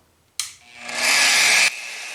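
A power drill spins up hard while boring into a guitar peghead for doweling, a loud close whine that starts abruptly, climbs to full speed for about a second, then cuts off.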